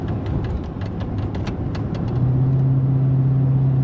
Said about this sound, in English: Let's go get the big old dump truck.